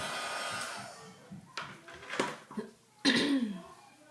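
A hair dryer blows in short bursts over a freshly stamped paper card, fairly quiet and close, with brief pauses and a few small handling sounds between the bursts.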